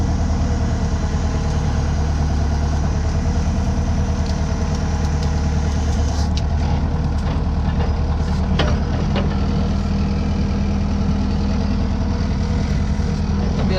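A heavy tractor engine drones steadily and loudly at close range while leveling ground on a plot cleared of willows, with a constant low rumble and faint clanks under it.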